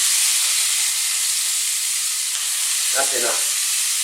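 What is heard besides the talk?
chicken fajita mixture sizzling in a very hot pan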